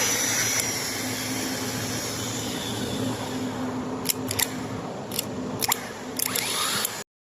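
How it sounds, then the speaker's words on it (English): A starter motor spins freely on a workbench with its pinion gear failing to extend, giving a steady whirring drone throughout, with a few brief clicks and knocks near the end. "You watch, the motor is working good one, but this pinion is not coming out."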